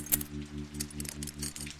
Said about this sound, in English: Deputy, give me the keys.